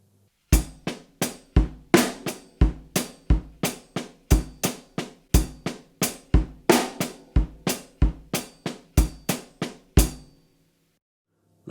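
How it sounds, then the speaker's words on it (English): A close-miked drum kit plays an odd-meter groove in 7 with accents added, giving a brisk, regular stream of crisp hits. Some strokes stand out louder than the rest before the pattern ends abruptly. "And now adding the accent would sound like this."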